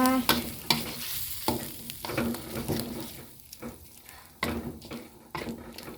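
Chili being stir-fried into a pork panang curry with Thai eggplant, a steady close sizzle broken by repeated scraping stirs of the spatula against the pan, no talking.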